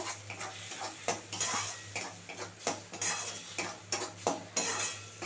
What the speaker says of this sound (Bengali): এই যে মশলাটা ভালো করে কষিয়ে নেব।